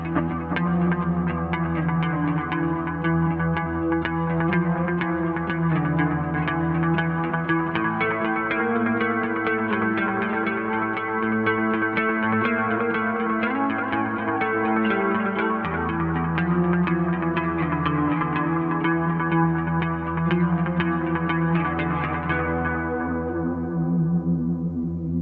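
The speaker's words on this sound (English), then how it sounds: "that's a real nice Echorec-esque sound for a fraction of the money" Electric guitar played through a Boss DD-20 digital delay pedal set to its analog mode with the tone knob turned up, giving a warm Echorec-style repeating echo; sustained, swirling chords and notes ring on for about 25 seconds before fading.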